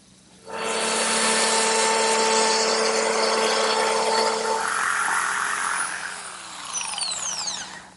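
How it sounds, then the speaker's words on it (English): A router fitted with a straight cutting bit and a guide collar cuts a tongue along a wooden board in a jig, starting abruptly with a loud steady whine, dipping as it works the cut, then spinning down at the end. "using my router with a straight cutting bit and this collar, which rides against the edge of the jig"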